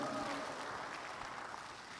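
An audience at a business seminar applauds, a brief spread of fairly faint clapping that fades slightly over two seconds.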